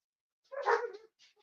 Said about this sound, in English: Oh, my dogs are gone barking again.